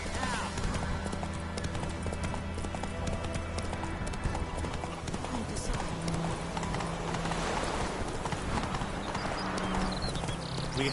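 A horse gallops in The Witcher 3, with steady, rapid hoofbeats that run without a break under game music and ambience.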